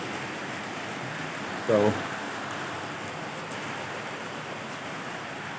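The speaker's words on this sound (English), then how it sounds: "as you can see, it's already raining already." Late afternoon rain falls in a steady, even hiss, soft and continuous, with a single brief spoken word near the start.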